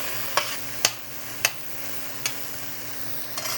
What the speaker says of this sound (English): I hear sizzling.